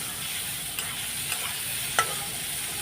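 Onions fry in a pan with a continuous bright sizzle, and a few scraping stirs stand out above it, close up and with no voices.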